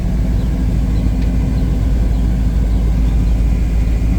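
Steady low engine idle of a 1971 Ford Mustang Mach 1 with a 429 Super Cobra Jet V8, heard from inside the car with the cabin blower fan running, a constant even drone with no talk.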